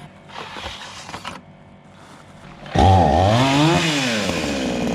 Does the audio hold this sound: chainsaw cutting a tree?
yes